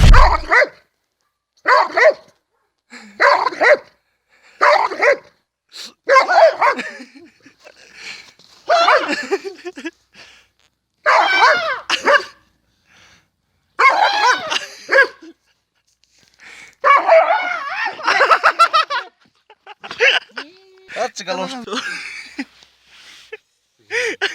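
A chained dog barks loudly and close, in a steady series of sharp barks and yips separated by short pauses throughout, with brief bits of laughter.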